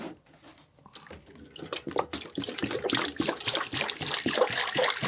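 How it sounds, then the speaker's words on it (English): Distilled water is poured into the bath of a cheap ultrasonic vinyl record cleaner, splashing and gurgling unevenly after a quiet start, then settling into a steady, close pour. "let's see if we can put some of this in without spilling it."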